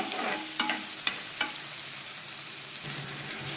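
Chopped tomato sautés in a pan for a Tamil ridge gourd vegetable curry: a steady, close sizzle with several light spoon scrapes and clinks as it is stirred.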